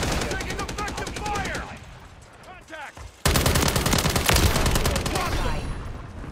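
A self-firing weapon in Modern Warfare 3 multiplayer unleashes rapid automatic bursts, loud and close, breaking off briefly before a denser, heavier volley resumes.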